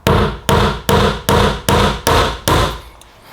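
A hammer strikes a 3-inch finish nail seven times in an even rhythm, each blow a loud, close, sharp impact with a short ring, with no talking.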